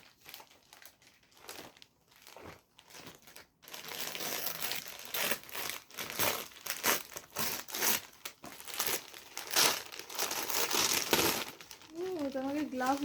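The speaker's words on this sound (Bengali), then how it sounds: "মা স্কুল থেকে ক্রিসমাসের জন্য গিফট পেয়েছে, সেটা খুলছি" Hands unwrap a Christmas gift from school, with close, loud crinkling and tearing of wrapping paper in irregular bursts, while a voice talks over parts of it and a short musical tone appears near the end.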